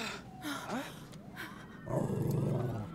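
In the video game As Dusk Falls, a dog growls and barks in a tense scene. Short snarls and yelps mix with raised voices, and a heavy thud or scuffle follows.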